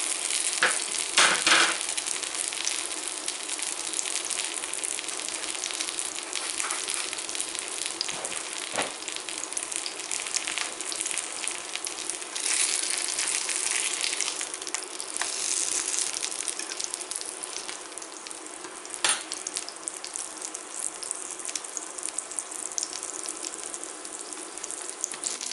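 Msemen stuffed with tuna fries in a pan, giving a steady, close hiss of sizzling oil that continues throughout with occasional crackles and faint clinks.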